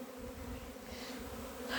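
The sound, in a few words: apiary bees buzzing, young bees on orientation flight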